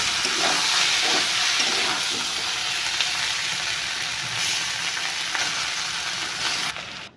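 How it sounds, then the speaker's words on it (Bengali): Eggplant, tomato and fried cauliflower frying together in a pan, a steady close broadband sizzle with faint stirring scrapes, continuous and loud until it drops off abruptly at the end. "এখন আবার খুব সুন্দর করে মিশিয়ে ভাজা ভাজা করে নেব"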